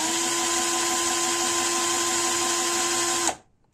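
A cordless drill whirs at a steady high pitch for a few seconds, then stops abruptly and winds down into near silence.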